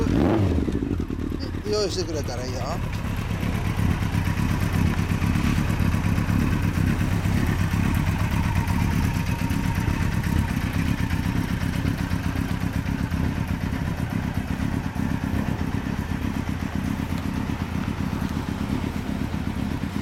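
A 1997 Yamaha XJR1200R motorcycle with a Wyvern exhaust running steadily, a continuous deep rumbling engine note, close and loud throughout, with people talking briefly near the start.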